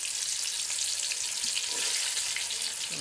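Hog plums (amra) fry in hot oil for pickle, giving a steady close sizzle and crackle with faint stirring scrapes, no voices.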